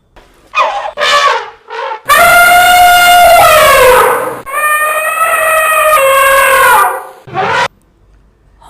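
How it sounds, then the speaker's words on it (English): An elephant trumpets in a series of loud, brassy calls: a few short blasts, then two long, wavering trumpets up close with a brief break between them. "Elephant."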